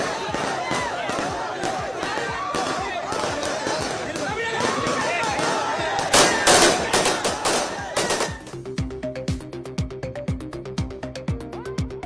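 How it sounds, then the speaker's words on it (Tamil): Firecrackers set off by party workers celebrating a political party's registration crackle in rapid sharp bursts amid crowd noise, peaking in a dense volley midway before giving way to steady rhythmic beats. "பட்டாசு வெடித்து இனிப்பு வழங்கி கொண்டாடிய தொண்டர்கள்."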